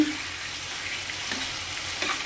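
Chicken frying dry in a pan over low heat, with no water added; a continuous close hiss of sizzling fat with faint stirring scrapes and no voice.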